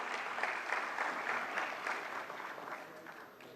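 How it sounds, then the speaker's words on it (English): Audience applause for panelists at a forensic science conference's valedictory ceremony, a steady wash of many hands clapping at moderate level throughout, without speech. "Can we have a huge round of applause for all the panelists here?"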